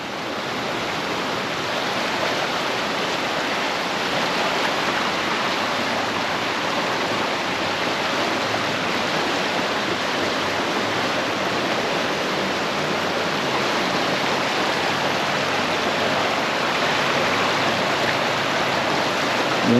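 A creek flooding after a hard rain storm in April, a loud continuous rushing roar of fast water running near a bridge and park, steady throughout with no voices.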